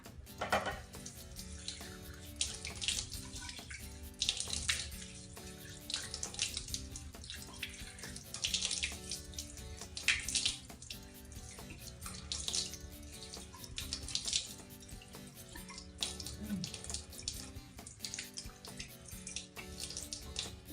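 A bathroom tap runs steadily while a face is washed with foam cleanser, a continuous close rush of water with small splashes and shifting flow across the whole stretch.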